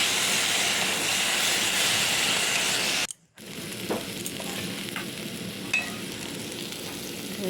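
Spices with chili, cumin and ginger sizzle and fry in a pan, a loud continuous hiss that cuts out briefly, then returns softer with occasional scraping stirs and clinks.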